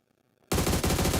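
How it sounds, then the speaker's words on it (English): Gunfire breaks out in a battle royale esports match: after a near-silent moment, a loud, continuous burst of rapid automatic shots fills the rest of the clip. "a lot of gunshots can be heard all across the map"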